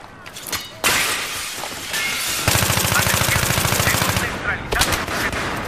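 An AEK-971 assault rifle fires in a Battlefield 3 Domination match on Ziba Tower: loud, close automatic bursts with sharp cracks and shattering, including one sustained rapid volley in the middle.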